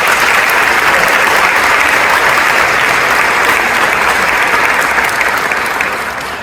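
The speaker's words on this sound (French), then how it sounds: "On applaudit ces frères." Steady, dense audience applause fills a hall at a wing inauguration ceremony, loud and continuous for several seconds before tapering slightly at the end.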